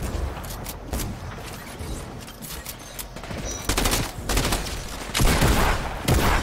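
Gunfire in the Fortnite video game: repeated bursts of shots crack out across the clip, with heavier, louder volleys near the middle and end.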